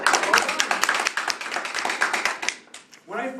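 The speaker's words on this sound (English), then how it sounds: "Give yourselves a round of applause." Short burst of audience clapping and tapping at a public speaking talk, scattered and close, trailing off after a few seconds as a voice begins to speak.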